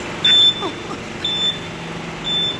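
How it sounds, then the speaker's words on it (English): Shop security alarm at a Tesco store exit gate, sounding three electronic beeping bursts at a steady interval over supermarket background noise. "Why is the alarm going off for me?"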